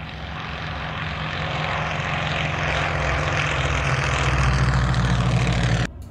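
A Nanchang propeller airplane flies low along a runway in ground effect, its engine a loud, steady droning roar with a constant low hum that cuts off abruptly just before the end.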